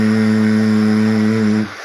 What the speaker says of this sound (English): When you exhale, you make a humming sound like this.